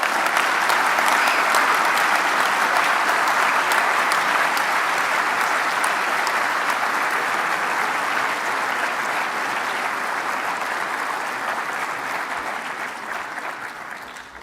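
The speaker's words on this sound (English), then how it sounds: "So if you'll all join me in a massive round of applause" A large audience applauds a young student prize winner at a research prize ceremony, a loud continuous wash of clapping that holds steady and then gradually tapers toward the end.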